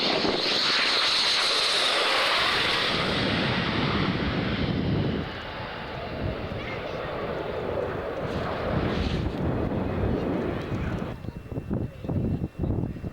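MiG-29 and MiG-23 jets fly low past, a loud broad engine roar that swells, then trails off into a lingering rumble under gusty wind, with people talking faintly in the background.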